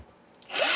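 After a quiet start, a power drill abruptly spins up at close range, its motor whirring loudly as the bit begins a pilot hole in a bass guitar body.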